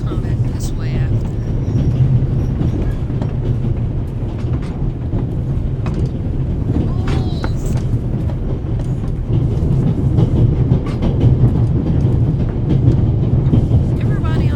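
Steady low rumble and rhythmic rolling of a train on rails inside a video game set aboard an Orient Express–style passenger train, continuous and close, with occasional speech-like sounds over it.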